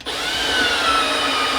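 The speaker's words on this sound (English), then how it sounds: "So I'm drilling another hole in this side skirt because it keeps falling off" A power drill bores a hole through a loose, stripped side skirt on a Nissan 350Z, giving a steady, close whirring whine for about a second and a half after a brief start.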